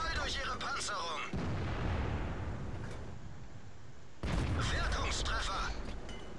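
Heavy tank-gun blasts and rumbling battle noise from a StuG III assault gun in a tier 5 tank video game, with loud booming bursts at the start and again near the end over a continuous low rumble.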